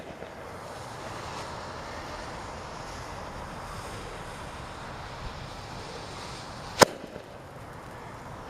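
A star gun fires a firework star during outdoor testing: one sharp, loud pop stands out near the end of a long stretch of windy, rushing background noise.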